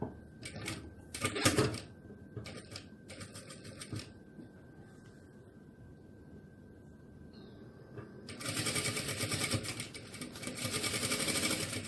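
A sewing machine stitches fabric for a small car trash bag with a backstitch at the opening. Short rapid bursts of stitching start and stop, then give way to a long, steady run of close, loud mechanical whirring.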